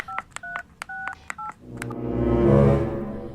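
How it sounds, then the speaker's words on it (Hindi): A run of quick touch-tone keypad beeps as a phone number is dialed, each short tone separated by brief gaps, followed by a swelling rush of broadband noise. "हाँ हाँ, घर में फोन कर देता हूँ।"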